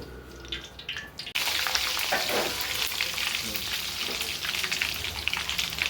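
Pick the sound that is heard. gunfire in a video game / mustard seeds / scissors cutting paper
mustard seeds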